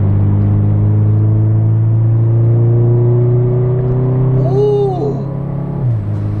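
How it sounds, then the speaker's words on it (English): The engine of a Honda Del Sol with a carbon intake drones steadily through its induction as revs climb gradually, a brief whine and chirp appearing near the end before the tone drops. "you can hear just the breathing in of the intake, just sucking in the air"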